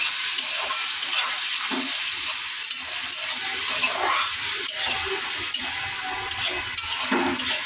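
Tomatoes with turmeric sizzle steadily as they are stirred and fried in a pan, with a continuous frying hiss and scattered scraping strokes of the spoon, close and fairly loud, with no voices.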